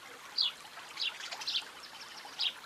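Soft trickling and dribbling of liquid into water, with a few brighter splashy bursts over a faint hiss.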